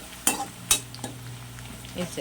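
Brinjal fry being stirred in oil with tempering spices in a pan: a steady low sizzle with a few sharp scraping strokes of a spoon, close and fairly quiet, no voices.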